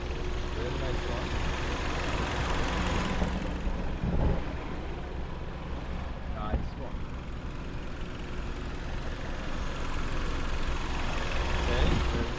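A 2011 Kia K5 gasoline engine with a new engine idles quietly and steadily, a low smooth hum running throughout while someone talks over it.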